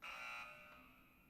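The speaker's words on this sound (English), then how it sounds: "Now go and find a buzzer sound" A buzzer sound effect plays as a single harsh, sustained electronic tone, strongest at the start and fading gradually over about a second, alone with no talk.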